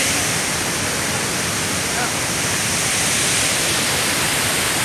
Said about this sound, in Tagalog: Andito po ako ngayon sa Tinuy and Falls.